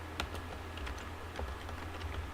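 Typing on a computer keyboard, quick irregular key clicks tapping along at close range over a steady low hum, with no voices.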